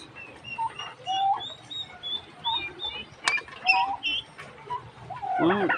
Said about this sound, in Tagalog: Alaga ko yung pabo.